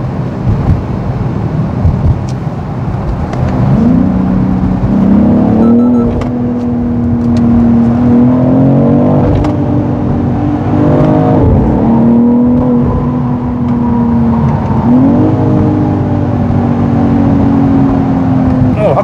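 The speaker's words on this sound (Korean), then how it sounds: "확실히 배기음은 듣기 좋은데요" A BMW X3 M Competition sports SUV gives a loud, steady exhaust drone with engine note shifts and revs, heard up close for about twenty seconds with faint voices underneath.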